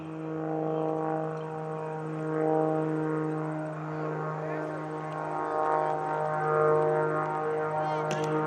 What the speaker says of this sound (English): David Windmiller's up there.